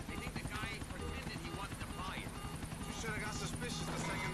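A helicopter whirs continuously in the video game GTA The Ballad of Gay Tony, a steady rotor drone throughout with someone talking over it.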